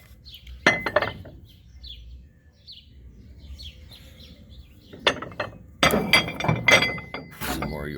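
Vintage York barbell weight plates, including 25-pound plates, smaller plates and clamps, clink and clatter in short sharp bursts as they are handled, with quiet gaps between knocks and a few louder clustered hits near the end.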